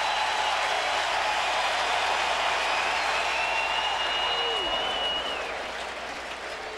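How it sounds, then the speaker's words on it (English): Big baseball crowd of Cubs fans at Wrigley Field in Chicago rising to their feet, a steady, loud roar of cheering and applause that fills the clip, easing slightly near the end, with faint whistles above. "And the big crowd at Wrigley, the Cubs fans rise to their feet."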